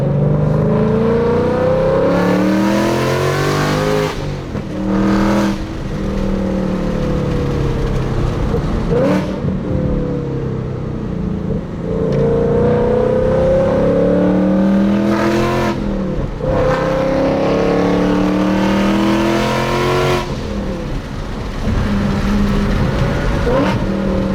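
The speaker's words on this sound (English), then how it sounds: "a nice little example of the pure harmonics that come through with this exhaust setup" A Ford Mustang Mach 1 with long-tube headers revs loudly and continuously, rising and falling harmonic pitch sweeps as gears shift, a throaty exhaust roar filling the whole stretch, with brief dips between pulls.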